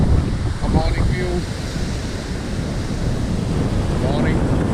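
Rough surf and strong gusting wind on an island beach in the morning, with loud wind buffeting the microphone over a continuous wash of waves and brief faint voices.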